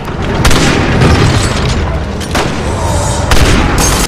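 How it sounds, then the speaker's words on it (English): An interactive lantern explodes in Resident Evil 6 gameplay, producing a loud, sustained booming roar with several sharp bursts layered over a dense, rumbling wash. "apparently interactive exploding lanterns is a big selling point now"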